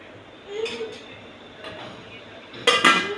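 A metal lid clanks onto a pot of boiling keerai sambar with a sharp clatter near the end, after softer kitchen clinks and a few quiet background sounds.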